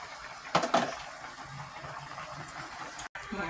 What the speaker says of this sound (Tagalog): at kumukulo na